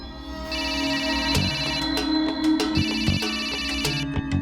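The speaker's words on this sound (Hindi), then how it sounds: "फोन बज रहा है बेटा, देख लो किसका है।" A phone ringtone plays a repeating electronic melody, fairly loud and nearby, with a few sharp knocks over it and no talking.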